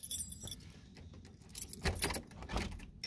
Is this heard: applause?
no